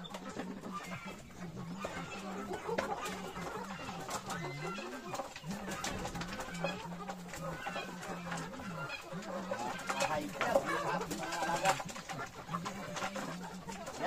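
Upgraded native chickens, grown large, cluck and murmur steadily at a rural backyard pen with an improvised drinking setup, a continuous low flock chatter heard at moderate distance with scattered coos and bird calls mixed in.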